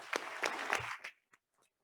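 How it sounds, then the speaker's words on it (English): People at a school district board meeting clap for a senior athlete, a short burst of applause that quickly dies away, leaving a couple of stray, faint claps in a quiet room. "if we can give her another round of applause"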